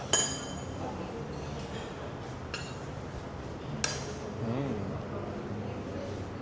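Faint metallic clinks of a fork and cutlery against dishes at a hotel breakfast, a few sharp taps spaced apart, over a low murmur of background chatter.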